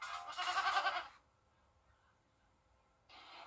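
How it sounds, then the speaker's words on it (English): Goats bleat in a TV commercial for an injury law firm. One loud, wavering bleat lasts about a second, and after a quiet pause a second bleat begins. "What's with all the goats?"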